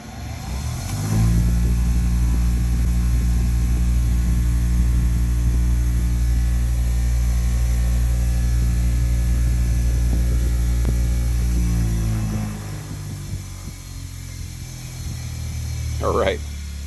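A restored bench grinder in a tiny workshop spins up and runs with a loud, steady low motor hum for about eleven seconds, then winds down, with a brief scrape near the end.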